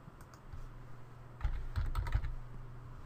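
A short password is typed on a computer keyboard, with quiet scattered keystrokes building into a brief cluster of soft clicks close by over a low steady hum, and no talking.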